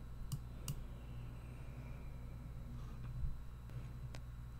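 Computer mouse clicking faintly, a handful of sharp, isolated clicks spaced irregularly over a quiet low hum, with no talk.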